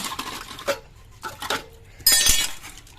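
Bowls and dishes clink and clatter as they are gathered up at home, several separate ceramic knocks, then a bright louder rattle of stacked pieces near the end, close by.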